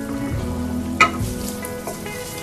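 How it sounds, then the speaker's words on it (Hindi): Chicken sizzling in a karahi with chili and ginger-garlic paste, a continuous close frying hiss with a low hum beneath and a single clink of the utensil midway, no voices. "यहाँ पे मिर्च और जिंजर गार्लिक पेस्ट के साथ मैं चिकन को भून रही थी"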